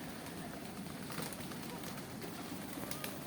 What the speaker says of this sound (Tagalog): Sarap magpakain ng kalapati.